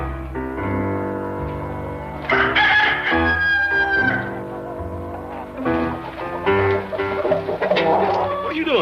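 A chicken clucks and squawks while being chased in a Western TV drama, its cackles rising briefly over loud, continuous orchestral music.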